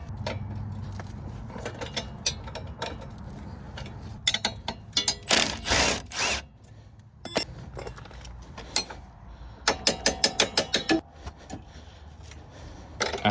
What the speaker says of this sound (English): Then we're going to be taking out our 19mm bolts that's holding the knuckle to the strut.